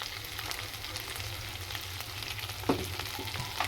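Nellore-style fish pieces fry in oil, a steady close sizzle and crackle throughout with a brief scrape or stir near the end.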